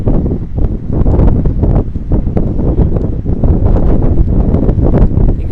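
Strong gusting wind buffets the microphone with heavy low rumbling and fluttering, loud and continuous throughout, no voices, at night on the Manhattan waterfront in New York City.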